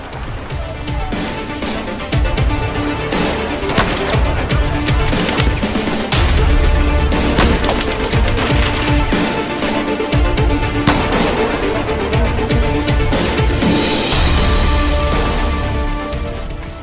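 Suppressed CS5 sniper rifle fitted with an 8x scope, fired in the video game Battlefield 4: sharp shot-like bursts stand out at intervals within a loud, dense, continuous mix of in-game battle sound, with no talking.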